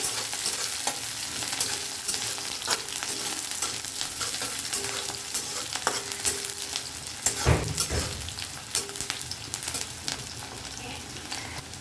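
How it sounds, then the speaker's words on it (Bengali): Onion frying in oil with dried chillies and nigella seeds for a Bengali okra dish, a steady close sizzle with scraping stirs throughout and one louder clatter partway. "পেঁয়াজটাকে একটু হালকা করে ভেজে নেব"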